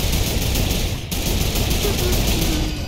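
A mounted turret in Fortnite rattles out sustained rapid automatic fire, a dense unbroken stream of shots with one brief dip partway through.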